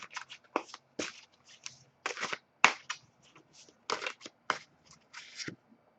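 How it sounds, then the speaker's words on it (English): A deck of oracle cards is shuffled by hand in a quiet room, producing a string of quick, crisp riffling bursts with short pauses between them. "As I shuffle the deck"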